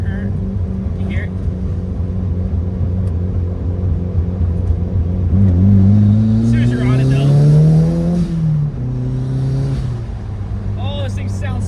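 A Mazda Miata with a puck clutch accelerates up through the revs in a loud, close engine sweep that rises, drops at a gear change and climbs again while someone talks over the engine note.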